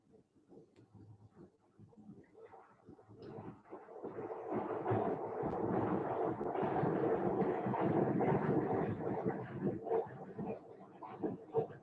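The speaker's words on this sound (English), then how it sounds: "That's the subway going by." A subway train rumbles by in the distance, a low, faint roar that swells over several seconds, holds, and then fluctuates as it passes.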